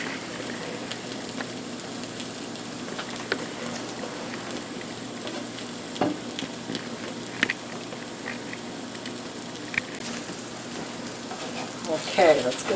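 Cinnamon-coated brioche French toast sizzles steadily in a Ninja Foodi Neverstick pan, a continuous close frying crackle with occasional small pops and clicks of utensils.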